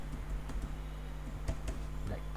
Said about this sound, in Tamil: இப்போ அதில் வந்து நான் பாஸ்வேர்டை டைப் பண்ணிக்கிறேன்.